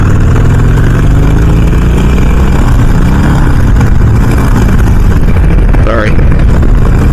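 A motorcycle's Harley Evolution (Evo) engine runs close and loud with a continuous rough low-pitched rumble that stays steady throughout, with a small swell of the note near the end.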